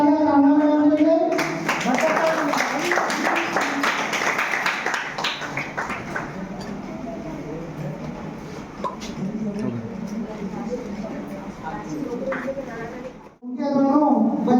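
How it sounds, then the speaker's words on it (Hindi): A school audience claps for a teacher at a Teachers Day celebration, a dense wash of clapping lasting several seconds, with a voice speaking just before it starts and again as it fades. "जोरदार तालियां राणा मैडम के लिए"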